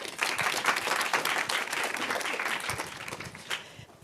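Audience applause at an AI meetup held at Google in New York City, a dense burst of clapping that stays loud and steady before tapering off toward the end.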